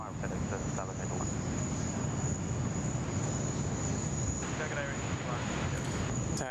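A China Eastern airliner arrives at Sydney Airport with a steady, loud jet roar and broadband rushing noise mixed with wind buffeting on the microphone. The roar holds constant throughout.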